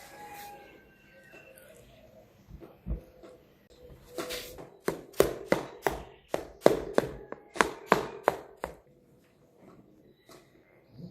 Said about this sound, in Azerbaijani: İndi isə Rəmzi qızımız göğü doğrayır.